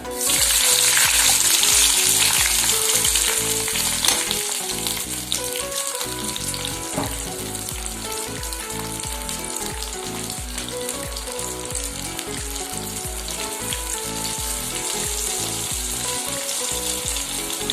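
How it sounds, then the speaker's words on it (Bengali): Ground spice paste for fish korma sizzles hard in hot oil, a loud, steady frying crackle that starts strong and settles slightly lower, with no talking over it. "এবার দিয়ে দিচ্ছি এই বাটা মশলাটা"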